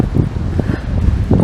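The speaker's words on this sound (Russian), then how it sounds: "Такой сильный ветер." Strong wind buffets a camera outdoors in a small rural village in the Komi Republic, producing loud, low rumbling gusts and microphone roar that surge and ebb continuously, with no voices present.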